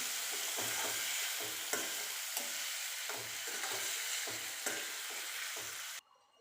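Garlic and chillies being stirred in a sizzling pan for sev tameta: a steady frying hiss with a regular series of spoon scrapes, close and clear, ending abruptly; no voices.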